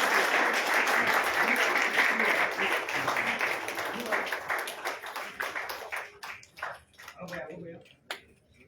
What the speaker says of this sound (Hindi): सभागार जोरदार तालियों से गुंजित होना चाहिए।